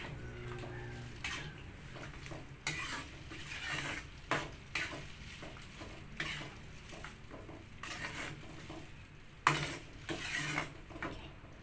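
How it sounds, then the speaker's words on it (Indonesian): Anchovy and green eggplant stir-fry being stirred in a pan, with repeated scraping and clinking of a utensil against metal in an irregular rhythm over a quiet background. "Aduk-aduk hingga merata."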